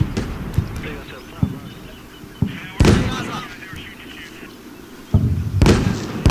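Heavy machine gun fire in the combat game Combat Mission: Shock Force, as two gun positions engage a Humvee: sharp, irregular bursts and booming impacts break through a steady rumble of battle noise, with speech over it.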